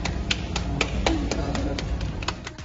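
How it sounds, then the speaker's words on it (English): A person claps their hands about a dozen times in a steady, moderately quick rhythm, each sharp clap close and distinct over a low background rumble, with no one talking. "Can you clap?"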